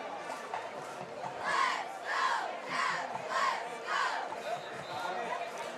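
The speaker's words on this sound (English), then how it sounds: "I think this is the loudest I've heard this crowd" A large crowd at a football game roars in loud rhythmic surges, swelling and falling in a chant-like pattern about every half second, with voices shouting throughout.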